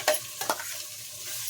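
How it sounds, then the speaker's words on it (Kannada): Spices for a tomato biryani tempering frying in oil in a pan, with a couple of sharp scrapes of a spoon stirring before a soft, steady sizzle, close and quiet with no talk. "ಇಷ್ಟನ್ನು ಒಗ್ಗರಣೆಯಲ್ಲಿ ಹಾಕ್ಕೊಂಡ್ಬಿಟ್ಟು ಚೆನ್ನಾಗಿ ಫ್ರೈ ಮಾಡ್ಕೊಳ್ಳಿ"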